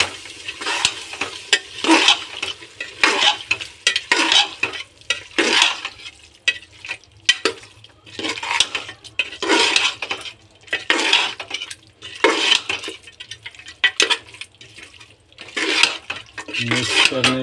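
A ladle stirs mutton curry with yogurt in a pressure cooker, giving steady, rhythmic scraping and clinking strokes against the metal pot over a soft sizzle, close and continuous.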